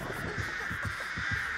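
Crows cawing in the horror video game Dead by Daylight, a short series of rough, evenly spaced calls sitting low over a steady ambient game hum.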